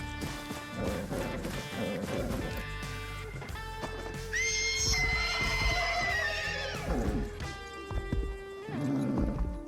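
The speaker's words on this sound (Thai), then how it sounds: "เดี๋ยวเราไปจับม้ากันนะทุกคน" A horse in a video game gives a loud, drawn-out whinny, with clip-clop hoofbeats and thuds around it and someone talking briefly.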